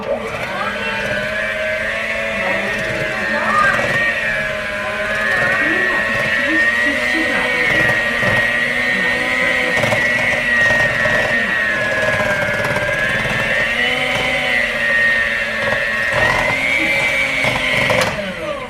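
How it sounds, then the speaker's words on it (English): An electric mixer whirs steadily as flour is mixed into pound cake batter, a constant droning motor with a slightly wavering pitch, heard close and loud while a voice talks at times. "Another portion of the flour in. Mix it in well also."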